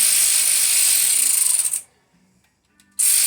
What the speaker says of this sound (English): great little ratchet I got, but doesn't have much torque